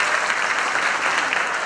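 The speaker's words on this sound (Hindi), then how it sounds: "एक बार तालियां हो जाए इनके लिए प्लीज" A school event audience applauds, dense and continuous clapping from a sizeable crowd, fairly loud and steady throughout the short burst with no voices over it.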